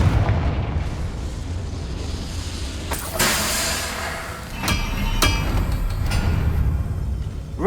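Spell explosions from Hogwarts Legacy: a few sharp booming bursts over a low rumbling game soundscape, each blast loud and short with a decaying tail.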